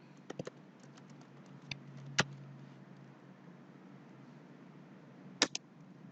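A few scattered key presses on a computer keyboard while code is entered into a PHP file, sparse, faint clicks over a low background hum, with one sharper tap near the end.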